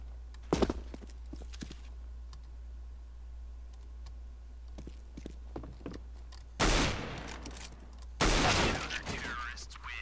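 Gunshots ring out in Counter-Strike: Global Offensive: a sharp early crack, then two louder bursts about a second and a half apart later on, over a low hum with faint clicks between.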